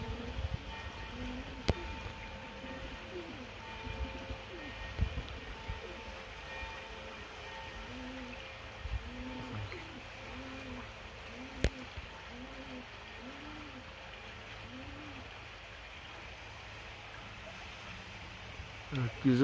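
English tippler pigeons coo in a soft, regular series of low, rounded notes repeating in the middle stretch, faint beneath steady outdoor background noise and occasional clicks.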